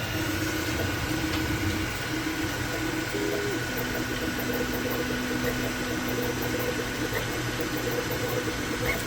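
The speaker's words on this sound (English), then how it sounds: "the Cobra 3 is running at full speed, and here's the sound test" An Anycubic Kobra 3 3D printer runs at full speed: a steady, fairly loud mechanical hum with stepper-motor tones and faint whirring, continuous and even throughout with no talk.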